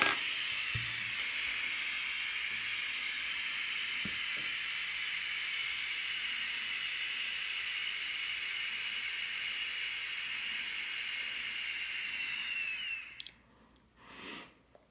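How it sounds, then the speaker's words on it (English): Air is drawn steadily through a Mutation X MT RTA vape tank, a loud, even hiss of airflow close up that holds for several seconds before cutting off abruptly. "time for the airflow test on the Mutation X MT RTA."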